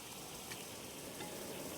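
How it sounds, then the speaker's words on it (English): Quiet, even crackling and hissing of butter frying in a pan, continuous with no talking. "as soon as you see the butter starts to sizzle"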